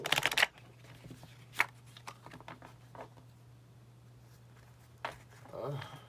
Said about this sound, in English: We're going to shuffle those.